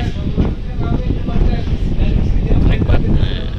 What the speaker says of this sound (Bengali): বাইরে বাতাস রয়েছে অনেক, এখানে অনেক বাতাস রয়েছে